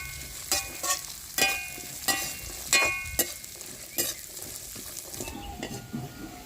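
Chopped carrot and beetroot fry in a pan for a samosa filling. A continuous close sizzle is broken by rhythmic scraping stirs every second or so.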